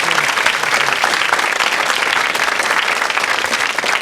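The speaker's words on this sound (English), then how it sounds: "Give them a big round of applause, please." Steady, dense applause from a television quiz show studio audience, loud and continuous with no talk over it.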